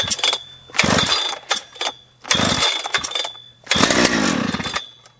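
A ported Husqvarna 3120XP chainsaw with an upgraded ignition roars close by in several loud revving bursts, dropping briefly to a lumpy idle between throttle blips.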